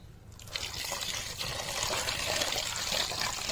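Water pours and trickles steadily over raw chicken pieces being rinsed in a bowl, starting quietly and building into a continuous close splashing stream with no talking.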